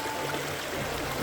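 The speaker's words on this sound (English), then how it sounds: "there's some more creek to cross right here" Creek water rushes steadily over rocks at a trail crossing, a continuous close splashing flow with no voices.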